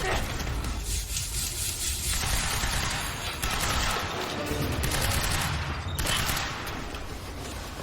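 Dense rapid gunfire in the video game Quantum Break, loud continuous bursts of shots with brief pauses, filling the whole stretch over game sounds.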